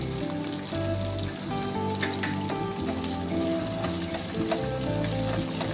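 Chopped ginger and green chili fry in a pan while cooking malai kofta, giving a steady close sizzle and crackle throughout with no talking.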